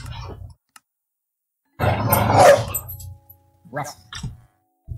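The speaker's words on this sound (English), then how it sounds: "My dogs are being loud." A few loud, rough dog barks and growls erupt indoors in a home office. They come in a short burst, then trail off into scattered yaps with brief silent gaps between.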